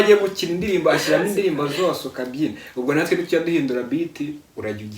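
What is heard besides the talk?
No distinct noise like a dog, phone or traffic.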